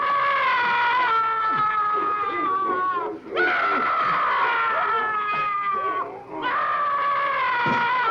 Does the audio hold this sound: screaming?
yes